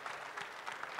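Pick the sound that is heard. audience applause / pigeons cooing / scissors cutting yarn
audience applause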